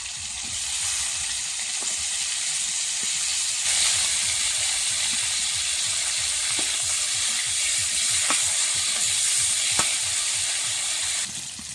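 Cauliflower florets frying in hot oil, a dense, steady crackling sizzle lasting throughout with faint occasional taps of a utensil, close and fairly loud, no voices.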